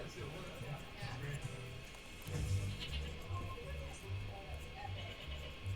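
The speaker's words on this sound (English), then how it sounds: "Dancing goat!" A dancing goat in a costumed party setting lets out repeated bleats among rhythmic low thumping, with people talking and cheering over it.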